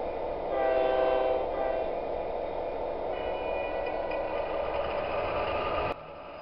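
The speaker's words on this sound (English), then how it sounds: "He's on the noisy side for the diesel." A Bachmann Blue Lightning model diesel locomotive runs with a steady, droning onboard engine sound and horn-like tones, fairly faint and continuous, ending in a slight drop.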